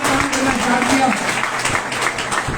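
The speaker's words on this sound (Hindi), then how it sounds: "एक बार जोरदार तालियों का हकदार है" Loud, dense applause from a crowd, sustained and steady throughout, with a voice faintly audible underneath.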